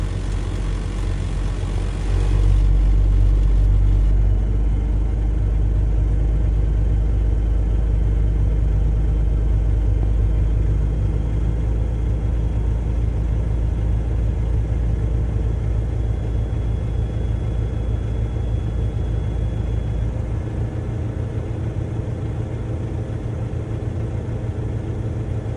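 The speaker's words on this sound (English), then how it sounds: "I'm going to do a startup. And I'm going to get up to the governor kickoff between 100 and 125 psi." Class B truck engine starting and running, a steady loud low diesel rumble at idle while the air system builds pressure toward the governor cut-out, with a slight drop in tone near the end.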